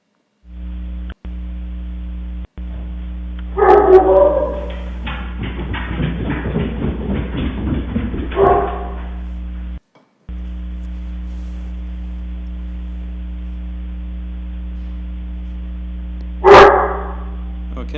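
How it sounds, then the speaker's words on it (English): A dog barks in two or three short bursts, picked up by a Samsung SNH-6410BN wifi camera indoors over a constant mains hum, with a rougher rustling stretch between the barks and a final yelp near the end. "you can see that picked up one of my dogs barking at whatever"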